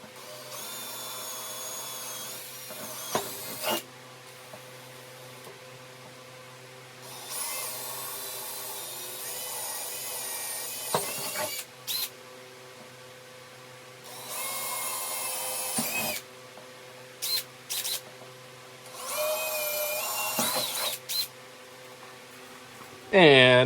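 A power drill whines in several bursts of a few seconds each, drilling into a Harley-Davidson Tour Pack trunk, separated by pauses, close and fairly loud.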